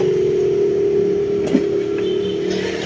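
An aftermarket fuel pump on a Honda Click 125 scooter runs with a steady, faint electric hum, continuous and unbroken, with one small tick partway through.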